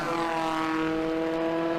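An Alfetta race car with a 3-litre 12-valve engine roars at a race meeting, its steady loud engine drone holding a constant pitch with no voices over it.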